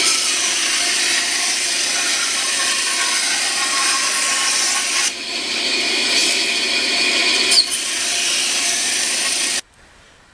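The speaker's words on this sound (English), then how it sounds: "And cut it out on the bandsaw." A bandsaw cuts through a foam boat part, giving a continuous loud hiss and whir with slight shifts in tone as the blade feeds, then stops abruptly near the end.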